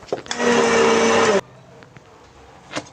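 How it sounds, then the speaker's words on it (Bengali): An electric mixer grinder blends spice paste for meat in a home kitchen, a loud whirring motor burst of just over a second that stops abruptly, followed by quiet clinks. "ততক্ষণ আমি এই মাংসের জন্য মশলাটা এখন মিক্সিতে বানিয়ে নেব।"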